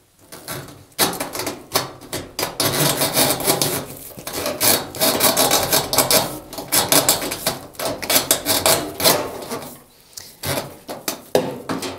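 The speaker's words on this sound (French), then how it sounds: "Je vais le faire repasser par l'orifice de la machine. Une affaire un peu délicate et bruyante." A washing machine's drain hose is forced through the opening in the machine's body, giving a rough, irregular scraping and rasping that comes in repeated bursts with short pauses, close and fairly loud.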